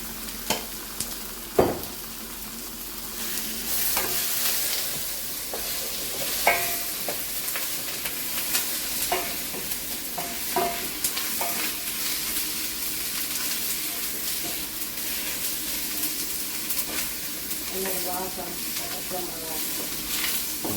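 Turmeric being stirred into a frying tin fish curry mixture of onions and green chillies, with steady sizzling and intermittent scraping and clinking of a spoon against the pan throughout.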